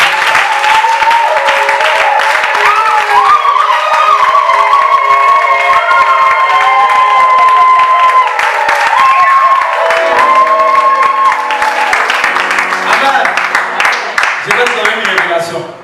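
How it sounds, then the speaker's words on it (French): A church congregation applauds and cheers loudly for God, with sustained dense clapping and shouts over music during a worship gathering, a steady wall of crowd noise throughout. "Je voudrais qu'on acclame Dieu très fort pour la gloire."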